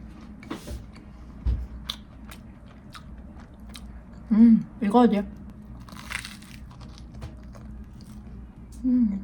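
Someone bites and chews food eaten with strawberry jam, giving close, crunchy bites in a few separate bursts along with soft murmured sounds of enjoyment.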